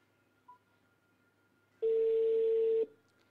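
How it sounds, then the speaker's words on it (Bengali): A single steady electronic telephone tone sounds for about one second during an outgoing phone call, following a brief faint blip in an otherwise quiet line. "আরেকবার আমি ফোন দিছি।"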